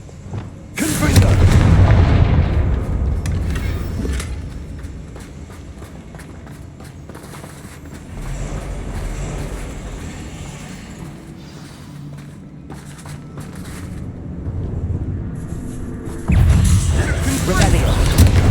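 Spell blasts in Hogwarts Legacy, the Confringo fire spell, booming out at intervals with heavy low-end impacts, loud bursts near the start and end and duller blasts between, amid game action and footsteps.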